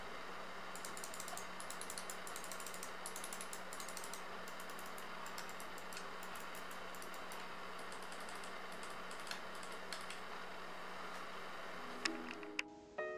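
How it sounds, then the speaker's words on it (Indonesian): Rapid, crisp clicks from a Rexus Daxa Air mouse tick away in quick bursts, close and fairly quiet, with a couple of louder knocks near the end. "Dan berikut ini suara dari kliki mouse-nya."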